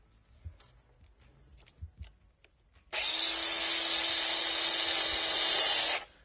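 A power drill bores a hole through the grille of a 2012-2013 Toyota Tacoma. A few faint knocks come first, then a loud, steady whine starts abruptly, runs for about three seconds and stops.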